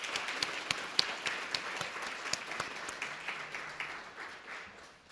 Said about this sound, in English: Could we have a round of applause for our abstractors?